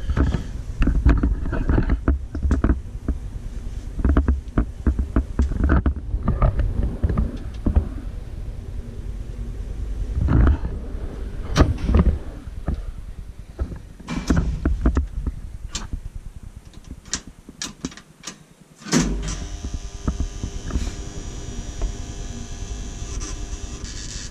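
A 1967 Kone traction elevator at Katajakatu 3 in Lahti, Finland, hums and rumbles during a ride, with a dense run of mechanical clicks and ticks and a sudden change in tone near the end of the trip.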